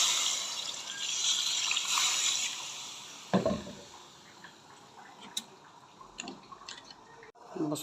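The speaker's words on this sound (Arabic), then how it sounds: "بص هنزود بقى ميه." Water is poured into a cooking pot with chicken, giving a soft, faint splashing hiss for a few seconds, followed by quieter drips and small clinks.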